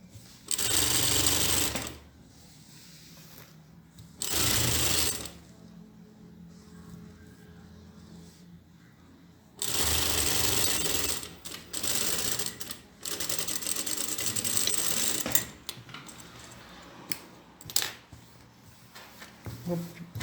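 A sewing machine stitches a straight skirt in several close, steady whirring runs separated by pauses, with fabric handling and faint room sounds between bursts.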